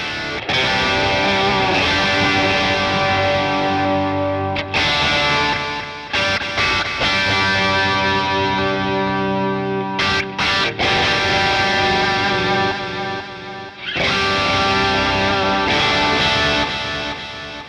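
Distorted electric guitar chords through a Boss Katana MkII amplifier's delay effect ring out with repeating echoes trailing behind them, in several bursts separated by short pauses.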